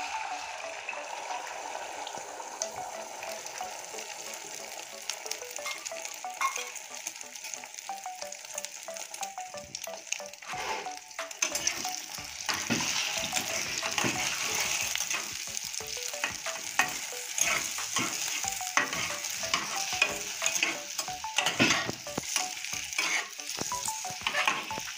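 Beaten egg poured into hot oil for a potato and egg curry, sizzling and frying steadily, close and fairly loud, with crackle and spatter that grow busier partway through.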